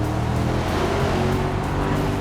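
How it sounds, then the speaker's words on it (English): A Mercedes-AMG SL 55 accelerates from low RPM under hard throttle, giving a loud, deep, steady engine roar throughout a short burst. "you can be at low RPMs, press down a bit harder on the accelerator"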